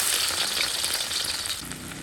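Ginger and garlic hit hot oil in a wok, giving a bright, dense sizzle that crackles steadily up close and eases slightly by the end.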